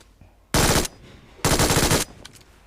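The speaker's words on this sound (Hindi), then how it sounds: "तो यहाँ पे मैंने उस बंदे के ऊपर फायर किया" Gunfire in the mobile battle royale game BGMI, two loud, close bursts of rapid automatic fire, a short burst and then a longer one, with quiet between them.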